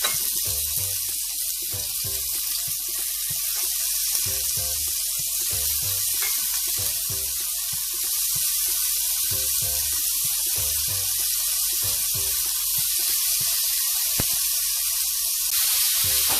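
Jerk shrimp sizzling loudly and steadily in a hot pan, a dense continuous fry with bursts of crackle and spatter throughout, close and alone with no talking.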